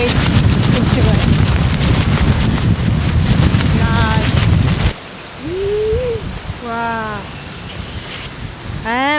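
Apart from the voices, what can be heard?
heavy rain and strong wind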